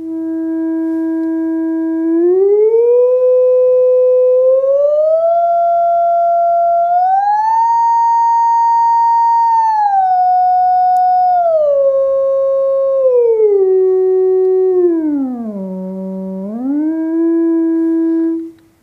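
A pure electronic tone from a signal generator holds steady, then steps upward in pitch in stages, slides back down through several levels, dips low, and returns to its starting pitch.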